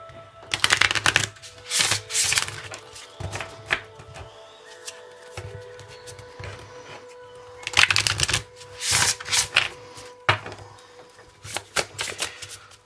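Tarot cards shuffled during a pick-a-card reading, loud close bursts of riffling and slapping cards in irregular clusters with quieter pauses between them, no talk heard.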